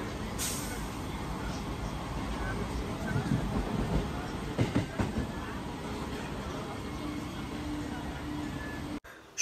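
A crowded local passenger train pulling out of Barasat station rumbles and rattles steadily at moderate level, with a few sharper knocks midway and a burst of air or brake noise at the end, under faint voices.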